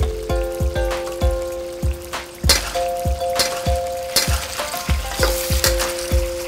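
Three kinds of offal stir-fried in a wok, seasoned with sugar, salt and soy sauce, sizzling loudly and steadily while a spatula scrapes and clacks against the metal in a quick, uneven rhythm.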